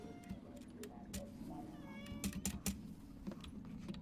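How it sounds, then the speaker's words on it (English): A house cat meows several times at close range, short calls scattered over a few seconds. A person talks through them, and soft keyboard clicks and video game sounds run underneath. "Oh, Kitty's trying to crawl all over me."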